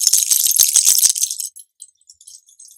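Old sterling silver jewelry rattles and jingles close to the microphone in a bright, busy burst of metallic clinks for about a second and a half, then thins out into a few scattered light tinkles.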